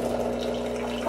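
Hot water streams from a Mars Flavia Aroma coffee brewer into a large-size cup in a steady, continuous flow over a faint mechanical hum, with no talking.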